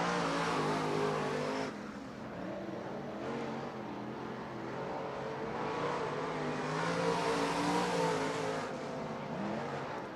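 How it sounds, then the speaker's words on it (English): A modified race car engine roars steadily as the car passes on a dirt track at the East Bay WinterNationals, loud and continuous, its pitch rising and falling with the throttle. "Bernhardt in the B69 rolls by"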